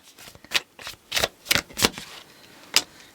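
Tarot cards being shuffled by hand in a series of quick, close riffling bursts with short pauses between them, and no talking over the sound.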